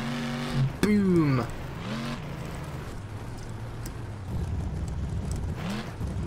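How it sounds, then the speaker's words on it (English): Monster truck engine in BeamNG.Drive pushing through shallow water, a rising rev with a brief whine early, then a sustained rumbling drone and splashing hiss, with someone talking over the start. "Let's go to the Beamng.Drive monster truck."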